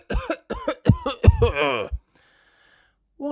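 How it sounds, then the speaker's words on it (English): A cartoon pony character coughs in a series of rough, voiced bursts, about five quick hacks ending in a drawn-out wheezy rasp, loud and close, then a short silence. "Poor Pedro Pony has a nasty cough."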